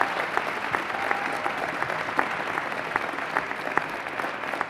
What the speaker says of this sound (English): So one last round of applause for the 2021 Poets and Quants Dean of the Year.